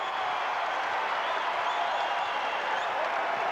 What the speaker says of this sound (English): And the crowd comes to life